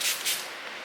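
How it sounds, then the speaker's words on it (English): Smashbox primer water misted onto a face as two quick, soft hissing sprays close to the microphone, followed by a faint lingering hiss. "I just spray that evenly on my face and let it dry"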